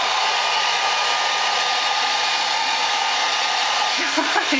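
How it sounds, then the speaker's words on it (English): Hair dryer blowing steadily and loudly up close, a constant airy roar with a fixed whine that holds unbroken throughout, with faint sounds near the end. "Get the hair dryer."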